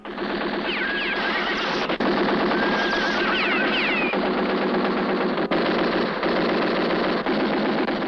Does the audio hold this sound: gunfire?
yes